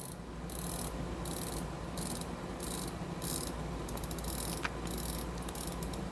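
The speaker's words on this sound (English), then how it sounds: "The bezel click still feels solid." The bezel of a titanium Seiko SKX403 diver's watch turns in a rapid run of crisp, tiny clicks, close up and distinct, with no talking.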